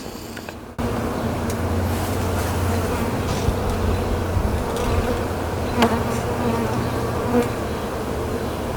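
A honeybee colony living in a tree in Millbury, Massachusetts for over two and a half years buzzes steadily and densely from about five feet away, with individual bees droning past close by.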